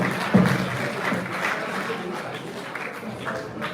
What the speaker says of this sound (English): say another clap for the president of the Women's Forum